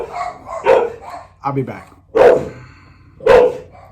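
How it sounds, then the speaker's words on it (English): Dogs barking at someone at the door, three loud, close barks spaced about a second apart, with a person talking briefly between them. "Somebody came to the door and my dogs went nuts."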